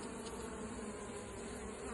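Dense, continuous buzzing of many honeybees, including drones, close by at a hive, a steady droning hum with no pauses.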